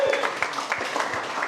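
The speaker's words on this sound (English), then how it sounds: "Let's give him a round of applause." An audience at a panel discussion gives a short round of applause, quick overlapping claps with a few sharper hits standing out, moderately loud throughout.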